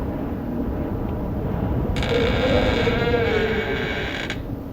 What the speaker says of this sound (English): It sounded like a creaking sound.